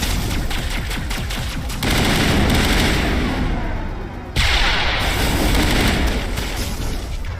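A grenade blast and heavy gunfire in a sci-fi shooter video game. Loud, dense bursts of shooting fill the clip. A deep boom rises sharply near the middle, and the firing continues after it.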